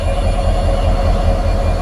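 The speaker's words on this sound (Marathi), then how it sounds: "हे बघा दिवा ट्रेन आलेली आहे" Loud, steady rumble of a train arriving close by at Sindhudurg Nagari railway station, with a low droning hum and faint metallic screech, no talking.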